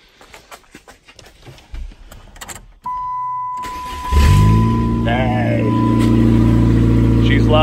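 A Saturn SC1 engine is started after a fuel pump connector repair: handling noises and a brief electrical whine lead into the starter, then the engine catches and settles into a loud, steady idle, while a person speaks in the background.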